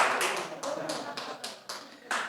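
A few people in a church congregation clapping during a sermon, sparse uneven claps close by, about seven quick strikes with small gaps, thin and unenthusiastic.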